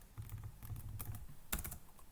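Code is typed on a computer keyboard while writing an Angular service function, a quiet, close patter of key taps with one sharper clack near the end, without talk.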